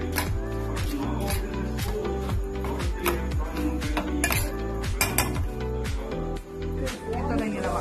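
Bhel made from pop rice, potato, green chutney and mint is tossed in a bowl with utensils, producing steady scraping and clinking under continuous background music.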